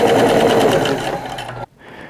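A sewing machine runs loud and close as it stitches the shoulder seams of a T-shirt, a fast steady whirring hum for about a second and a half that cuts off abruptly, followed by a brief fainter mechanical whir.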